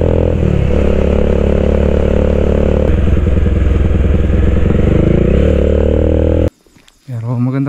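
A scooter rides past on a rough, rain-wet road, its engine droning loud and close with clattering and rattling over bumps for about six seconds, then cutting off abruptly before a brief rustle.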